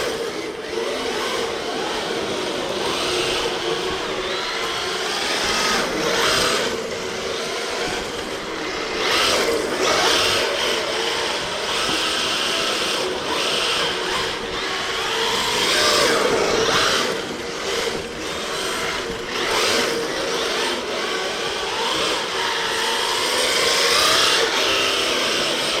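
An RC drift car fitted with a $50 ESC makes laps, a loud, continuous high-pitched electric motor whine with tire scrubbing that rises and falls as it sweeps around. No one talks.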